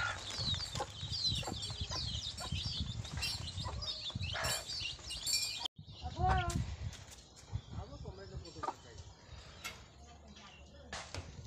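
A hen clucks on and off among other chickens at dusk outdoors in rural Konkan, the calls fairly faint and mixed with people talking and scattered yard noise.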